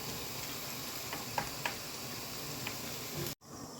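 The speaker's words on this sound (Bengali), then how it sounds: "সয়াবিন, ভেজে নিব।" Soybean chunks sizzle in a hot pan, a steady close frying hiss with a few soft stirring taps, briefly cut off near the end before the sizzle returns.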